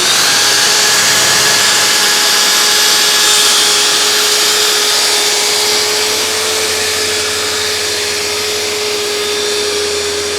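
A track saw cutting through a wooden table top, a loud steady high whine held continuously at close range with no talking.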